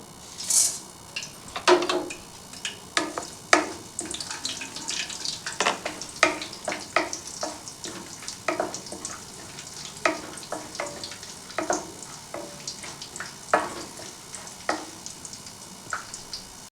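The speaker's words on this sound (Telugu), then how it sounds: "ఆయిల్ వేడెక్కింది పోపు దినుసులు వేద్దాం" Tempering spices crackle and spit in hot oil in a kadai, with sharp, scattered pops over a soft background sizzle, fairly quiet and without talk.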